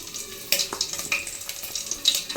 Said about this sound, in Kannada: ಎಣ್ಣೆ ಹಾಕಿ ಸ್ವಲ್ಪ ಎಣ್ಣೆ ಬಿಸಿ ಆದಮೇಲೆ ಹಸಿಮೆಣ್ಸಿನ್ಕಾಯಿನ ಹಾಕೋತೀನಿ